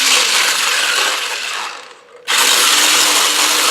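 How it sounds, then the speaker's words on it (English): Oat flour is whisked into a mashed banana mixture as a loud, continuous whirring rush that dips and cuts out briefly, then resumes at full strength. "and give it a whisk."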